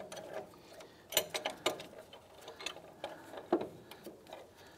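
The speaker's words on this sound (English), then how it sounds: "so when we tighten this down, you can see the actuator compress in a little bit" A C-clamp is tightened against a rear brake caliper bracket and e-brake actuator on a 2005-2007 Ford Five Hundred, giving close, quiet mechanical clicks and ratcheting ticks in irregular bursts, with no talking.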